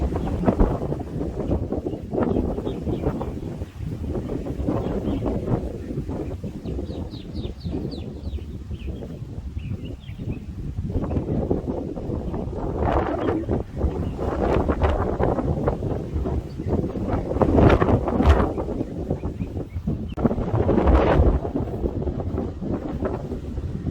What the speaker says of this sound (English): It's extremely windy at the beach at Fort Pickens in Pensacola.